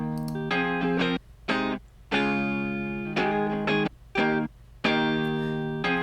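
Two electric guitars play the same melody in exact unison, blending into one voice with effects and distortion; phrases of sustained notes separated by short pauses, loud and close.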